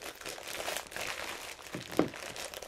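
Plastic bag packaging crinkles and rustles close up as it is handled and opened during a Louis Vuitton unboxing, with a few sharper crunches and no talk.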